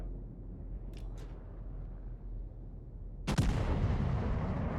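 Battleship USN New York fires its main guns in a naval video game: after a faint hiss and a couple of distant pops, one sudden loud boom erupts and rolls on in a long rumbling tail.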